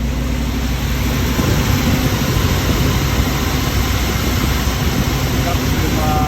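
A car engine runs steadily at idle, a constant close rumble with a wash of broadband noise and no change in pitch or loudness, alone without talk.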